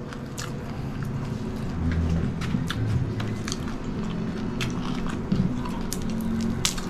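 Someone bites into and chews crispy fried pork belly (lechon kawali), making faint, close crunches and crackles spread irregularly over several seconds above a soft room background.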